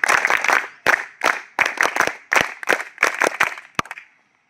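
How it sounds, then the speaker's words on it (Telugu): Students at a school Scouts and Guides founder's day event clap together in repeated bursts, a crowd of hands applauding loudly and close, each burst swelling then fading before the room falls quiet. "We are happy. Claps go."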